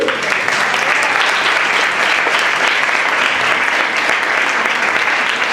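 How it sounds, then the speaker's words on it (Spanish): Sustained, dense applause from an audience at a Pint of Science talk, steady and loud throughout with no pauses. "le damos también un aplauso a Carmen, que está allí."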